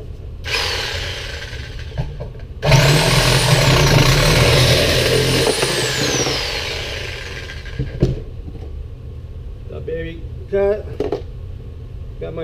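A power saw cuts copper pipe for making fishing jigs. It whirs up and grinds loudly and steadily for about five seconds, then winds down, followed by a few light clanks and handling noises in a workshop.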